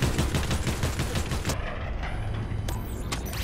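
Sniper rifle fire in the Fortnite video game, heard as a sharp, loud crack near the middle of the clip amid dense, noisy in-game gunfire and mechanical clatter.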